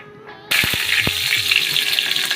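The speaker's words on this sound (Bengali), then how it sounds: "আমাদের পরিমাণ মতো তেল দিয়ে নিলাম" A bay leaf dropped into hot oil bursts into a sudden loud sizzle after a quiet start, with a few sharp pops and crackles as the steady frying hiss carries on.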